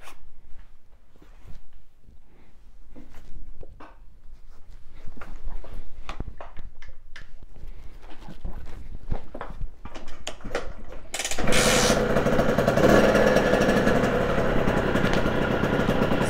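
A small HM motorcycle, a bargain used bike, fires up quickly after a few mechanical clicks and ratcheting sounds from the starter, then settles into a loud, steady close-up engine roar.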